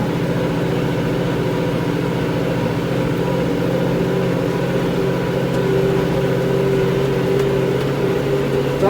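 Tractor engine pulling up a slope in third gear beside an olive harvest, a steady mid-pitched drone with a faint whine that swells slightly toward the end.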